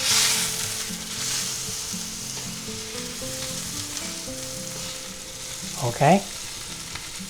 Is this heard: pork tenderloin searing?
yes